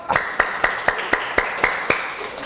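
Children clap together in a steady rhythm of about ten sharp claps, close and evenly spaced, with no talk over them.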